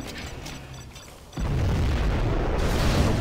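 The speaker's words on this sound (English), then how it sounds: "Launching nuclear missile." A nuclear missile explosion in a strategy video game arrives after a quieter stretch as a sudden deep, rumbling roar that stays loud and sustained to the end.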